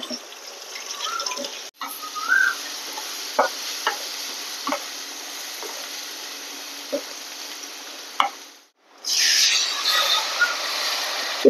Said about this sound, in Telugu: చింతపండు రసం పోస్తున్నానండి వడల పులుసులోకి.